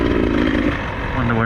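A Beta 300 two-stroke dirt bike engine idles with a steady, buzzing drone, loud and close, while a voice talks over it.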